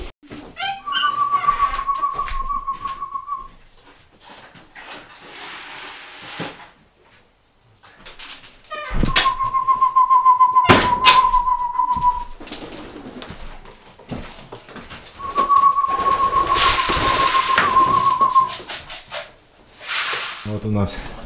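Sport pigeons coo in low repeated phrases close by, mixed with wing flutters and rustling, while people talk over them in between.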